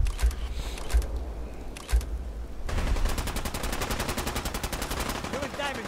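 Gunfire in the video game Fallout 4: three heavy, spaced single shots, then a loud, sustained rapid-fire burst that continues to the end.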